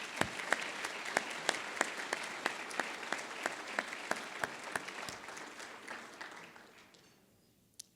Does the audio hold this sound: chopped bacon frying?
no